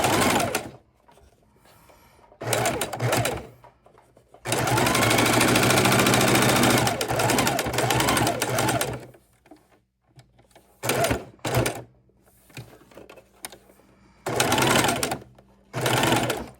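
A sewing machine stitches through many thick layers of a DIY wallet keychain purse, running in several bursts separated by pauses, with one long sustained run in the middle, loud and close.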